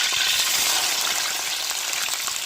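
Onions, cumin and curry leaves fry in hot oil for a potato rice dish, giving a loud, steady, close sizzle with fine crackling throughout.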